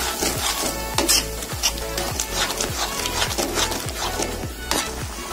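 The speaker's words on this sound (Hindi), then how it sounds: "अब हम इसमें डालेंगे भुना हुआ बेसन और इसको मिक्स कर लेंगे मसालों के साथ।" A spoon scrapes and stirs roasted gram flour into masala in a pan for egg curry, with rhythmic rubbing strokes about twice a second, close and fairly clear, no voices.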